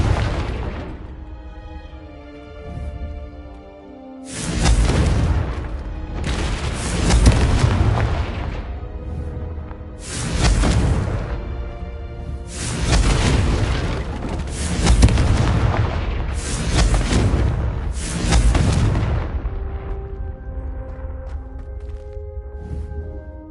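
Repeated Confringo fire spell blasts in Hogwarts Legacy: loud, booming explosive bursts landing one after another in irregular succession, each with a sharp onset and rumbling tail, over a low ambient game backdrop.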